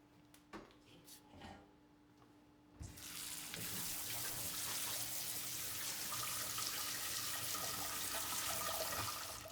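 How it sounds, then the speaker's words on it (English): Cold tap water runs steadily over strained boiled potatoes in a kitchen sink for hash browns, a loud continuous splashing rush that starts abruptly after a few faint clinks and carries on to the end. "We're going to take them off the stove, strain them, and rinse them with cold water."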